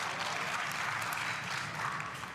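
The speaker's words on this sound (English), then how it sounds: "the pro Arizona crowd applauding everything Riley Newman does" A crowd at a professional pickleball mixed doubles match in Arizona applauds steadily, a continuous moderately quiet wash of clapping.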